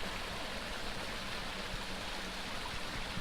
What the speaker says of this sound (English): Ah, babbling brook.